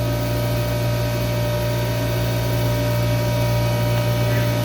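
A fishing reel body being machined at 3,500 RPM with about 300 thou depth of cut, a loud continuous steady machine drone with sustained low hum and dense broadband noise throughout.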